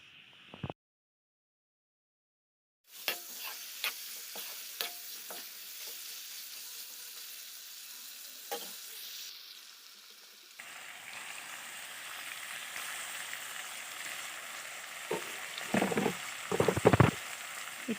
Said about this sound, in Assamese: মছলাখিনি অকণমান ভাজি ল'ম, তাৰ পাছতহে মাংসখিনি দিম